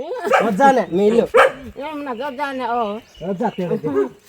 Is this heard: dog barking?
yes